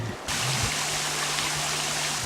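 A river current rushes through a canyon near Praia Grande, Santa Catarina, a loud, steady broadband wash of flowing water that starts abruptly after a brief moment and continues unbroken.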